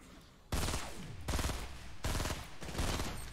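P90 submachine gun bursts in the Fortnite video game: four loud rapid-fire volleys in quick succession, each cutting off sharply, heard close and alone.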